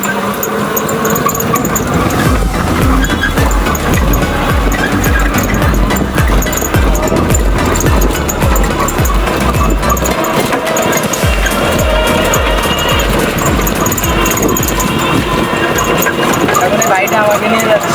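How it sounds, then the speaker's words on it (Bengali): Motorbike riding along a road, a continuous close engine drone with rattling vibration and wind buffeting throughout, while a person talks over it. "এখন এই বাইকটা আমাকে নিয়ে যাচ্ছে"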